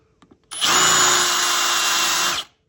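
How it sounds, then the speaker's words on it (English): Power drill with a countersink bit boring into a wooden farmhouse dining table, a loud close motor whir that starts abruptly, holds steady for about two seconds, then stops, after a few faint clicks. "What I'm doing now is I'm using the countersink for that insert"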